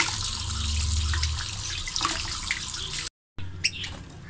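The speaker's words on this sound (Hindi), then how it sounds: "थोड़ा सा आपने जो है पानी इसके ऊपर गिराना है ताकि मिट्टी वगैरह जो है वो उतर जाए" Water poured over something to rinse off soil, running steadily like a tap into a basin, close and fairly loud, then a brief cut and a few softer splashes.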